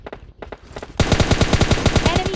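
Rapid automatic gunfire in a battle royale video game, starting as a few sparse shots, then breaking into a loud, steady burst of evenly spaced rounds, with a faint voice underneath.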